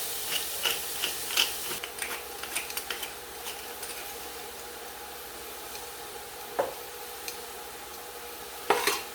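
Meat sautéing in a pan for ginisang mais with salt and pepper, heard as a faint steady sizzle with scattered stirring and utensil scrapes and a couple of sharper clinks.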